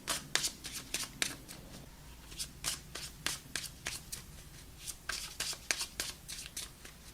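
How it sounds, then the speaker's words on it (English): Tarot cards are shuffled by hand in a steady run of crisp riffling bursts and soft slaps, close and fairly quiet, with no voice over them. "let's pull some outcome cards"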